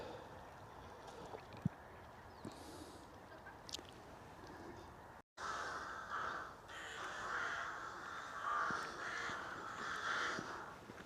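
Distant crows caw over a steady outdoor hum, the calls growing busier and louder in the second half after a brief cut.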